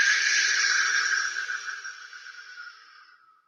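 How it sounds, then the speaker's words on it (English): One long, deep exhalation during a guided breathing exercise, a soft airy rush close to the microphone that fades gradually over a few seconds. "breathing in through the nose and out through the nose or the mouth"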